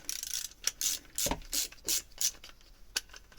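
A screw being turned on a Peugeot 103 moped variator, heard as short scraping, rasping strokes in an irregular rhythm, quiet and close, with no talk.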